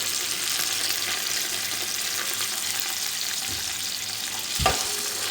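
Small chicken pieces fry in about half a cup of hot cooking oil for chicken fried rice, a loud, constant sizzle over high flame, with a low thump and brief clatter toward the end.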